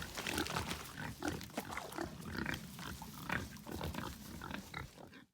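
Iberian pigs grunt and snort continuously at close range in their outdoor pen, a dense, uneven chorus of overlapping low grunts with no talk.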